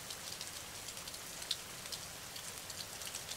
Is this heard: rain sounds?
yes